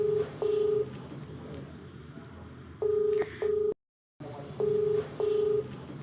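Touch-tone keypad beeps as a call is dialed, several short steady tones in pairs and groups, close and clear over a faint background hum, with a brief silent gap midway.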